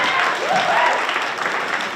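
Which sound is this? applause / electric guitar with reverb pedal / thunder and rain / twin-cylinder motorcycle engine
applause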